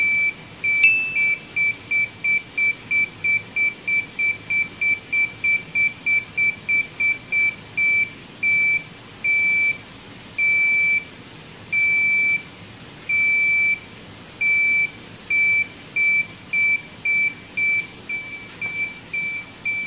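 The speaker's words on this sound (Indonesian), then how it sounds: "Kamu bisa menyesuaikan frekuensi beep buzzer dengan memutar trimpot." Mini buzzer driven by an NE555 timer circuit beeping intermittently, a shrill electronic tone pulsing in rapid regular bursts that later slow to longer, evenly spaced beeps, loud and alone.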